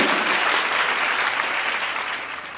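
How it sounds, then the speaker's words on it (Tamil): Audience in a hall gives loud, sustained applause for the Chai Kings founders, engineering graduates, during a speech to students; dense steady clapping that eases off slightly toward the end. "அவங்களுக்கு ஒரு பலத்த கைத்தட்டல் கொடுங்க."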